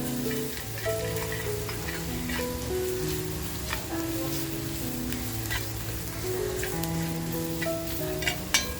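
Masala and turmeric sizzle steadily in hot oil for a traditional dry prawn kharda, a continuous close crackle with occasional sharp spatters, over a soft tonal background bed.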